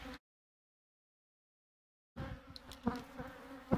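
Bees buzz near and loud around a beehive while honey supers are checked, after a stretch of dead silence. The droning hum comes with soft bumps and handling noises.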